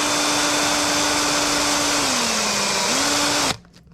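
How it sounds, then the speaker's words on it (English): Power drill whirring steadily while boring straight into a DIY underspin fishing lure, its pitch sagging briefly under load before rising again, then cutting off abruptly near the end. "Okay, and now you drill straight in."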